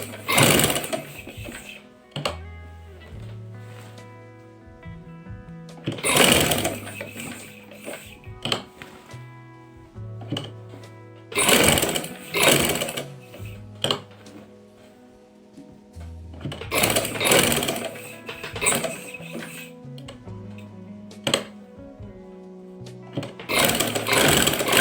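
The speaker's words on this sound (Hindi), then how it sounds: "अब ये मैं बुकरम के साथ साथ सिलाई लगाती हुई आ जाती हूँ।" An electric sewing machine stitches a kameez neckline with buckram in three long bursts of fast, whirring needle chatter, each separated by a short quieter pause, close and clear with no talking.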